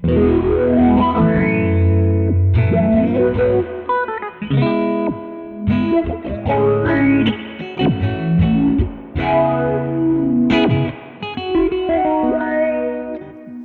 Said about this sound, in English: I'm going to have falling sawtooth on the right side and rising sawtooth on the other.